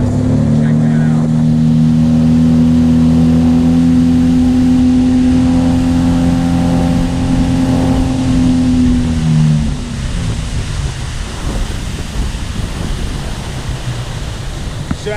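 A boat fitted with a Seakeeper Ride roars as its engine accelerates onto plane, a loud, steady rising drone over rushing water that gives way to wash and wave noise near the end.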